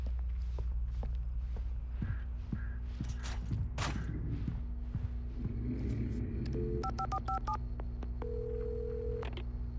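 A telephone being dialed inside a gas station in the video game Alan Wake. Footsteps and a low rumble come first, then a quick run of tonal keypad beeps and a sustained dial tone near the end.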